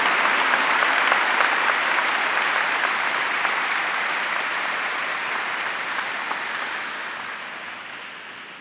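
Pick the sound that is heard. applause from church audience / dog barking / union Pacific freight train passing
applause from church audience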